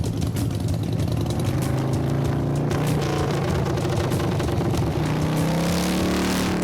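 A custom-built motorcycle on its first ride roars steadily and loudly throughout, a dense engine rumble with a shifting pitch as it accelerates and settles, heard up close with no talking.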